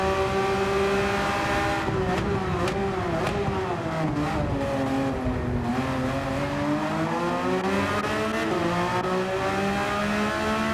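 Race car engine in a racing video game, a loud sustained high-revving whine that climbs and dips through gear changes, with a few sharp shifts and faint tire noise, no talk.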